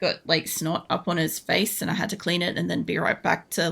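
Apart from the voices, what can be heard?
No everyday noise stands out behind the speech.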